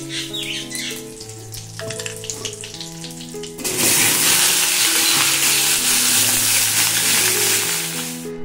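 Potatoes fry in hot oil for Bengali aloo dum, a steady hiss that swells sharply louder partway through and keeps sizzling to the end, alongside light music.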